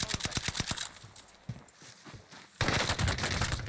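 Rapid automatic gunfire in the battle royale game Call of Duty Warzone: a fast burst of close shots at the start, a lull with a few scattered single shots, then a loud renewed burst near the end.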